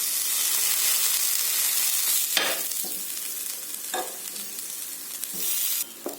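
Sweet potato slices fry on a griddle with a loud, constant close sizzle, punctuated by a few bursts of spatula scraping and turning; no voices.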